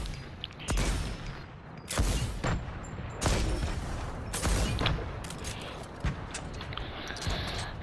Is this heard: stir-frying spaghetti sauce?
no